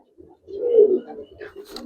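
Giribaz coloring pigeons cooing close by, a low rolling coo swelling in the middle and trailing off, with a brief higher chirp near the end.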